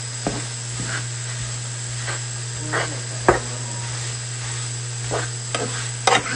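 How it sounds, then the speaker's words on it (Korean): Onions being stir-fried in a pan at home, a steady low sizzle with occasional scraping stirs, alone without talk. "너가 이거이 시간에 양파 볶는 사람은 처음이네."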